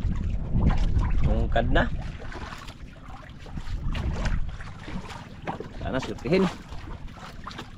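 Strong sea wind buffets the microphone on a fishing boat, gusting loud and rumbling in waves while people talk close by.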